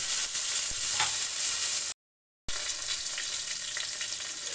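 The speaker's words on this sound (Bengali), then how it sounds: "যেহেতু ইলিশ মাছের মাথা সেজন্য আমি হালকা করে ভেজে নেব" Hilsa fish head frying lightly in hot oil in a kadai: a steady, close, hissing sizzle with faint stirring, cut by a brief moment of silence partway through.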